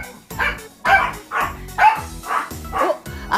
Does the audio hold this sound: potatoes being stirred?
no